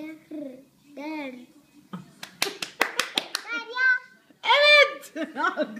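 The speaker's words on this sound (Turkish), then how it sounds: "Evet. Alkış." A few sharp hand claps at home, quick and close, come amid a young child's sounding-out of syllables and an adult speaking nearby.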